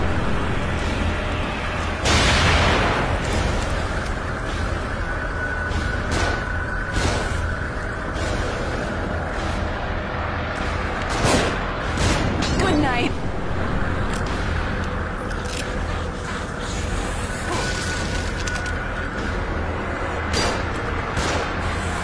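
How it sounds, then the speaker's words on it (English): Gunfire comes down from above in the survival horror game The Evil Within, scattered sharp shots and bursts over a constant loud rumble of combat for the whole stretch, with no voices. "Shooting from above."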